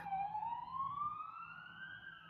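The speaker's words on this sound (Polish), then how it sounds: "Czyli jakaś karetka jechała." An ambulance siren sounds outside, one steady rising wail that holds fairly loud for the whole stretch, with no talking over it.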